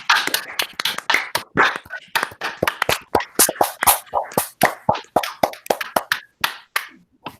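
A few people clapping in a small room, sparse, distinct close hand claps in an uneven rhythm rather than a full crowd wash, with brief gaps between bursts.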